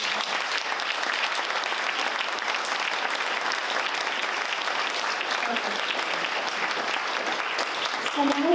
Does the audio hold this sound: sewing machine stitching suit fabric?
no